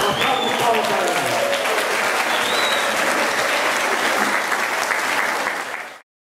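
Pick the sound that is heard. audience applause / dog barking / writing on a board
audience applause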